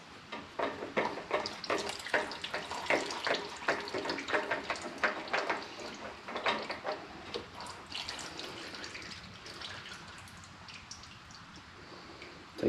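Engine oil drains steadily from an Exmark Lazer Z mower, a continuous trickling, splashing stream up close that is busier at first and slowly thins toward the end, with no talking.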